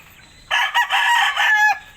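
A rooster of a prized bloodline crows once at close range, a loud, full cock-a-doodle-doo lasting just over a second and standing alone against quiet background.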